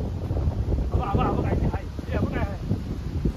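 Strong, gusty wind roars across the microphone outdoors in a coconut garden, a constant loud rumble with people talking and singing over it.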